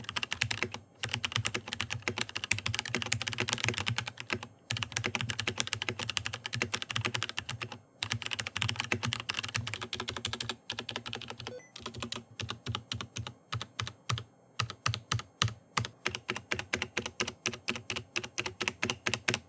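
Rapid typing on a Hexgears K520 keyboard with Kailh Box switches and stock keycaps: a dense, steady clatter of keystrokes that thins into slower, separate clicky presses toward the end, close and alone.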